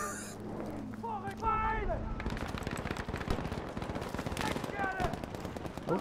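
Rapid bursts of automatic gunfire crackle through a first-person shooter game, with whining ricochet-like tones and a voice talking over the shooting.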